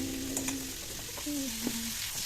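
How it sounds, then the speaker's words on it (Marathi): Bitter gourd pieces stir-frying in oil in a kadhai over low flame give a steady, close sizzle with soft stirring scrapes, plus a faint tonal hum in the background. "त्यात कारल्याच्या फोडी घालायच्या आणि थोडं कमी मंद आचवर असं हलवून घ्यायचं"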